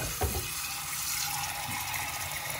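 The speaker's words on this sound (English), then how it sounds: "put it in the sink with some water" Tap water runs steadily into a kitchen sink to soak a cooking utensil, a continuous broadband splash with a brief clunk near the start.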